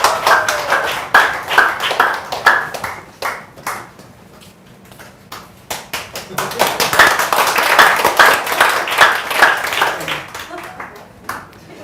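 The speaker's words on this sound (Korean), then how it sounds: "박수 많이 주세요." An audience claps to welcome a lecturer at a seminar. Individual claps stand out in two bursts with a quieter lull between them.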